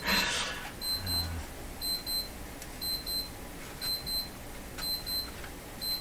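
An alarm clock near a Philco tube radio bench goes off with repeated bursts of high electronic beeps in a steady rhythm, fairly faint and without talking.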